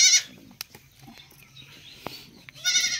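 A goat bleats during morning hand milking, nannies that recently kidded triplets, with a loud bleat at the start and another near the end, softer farmyard noise and brief knocks between.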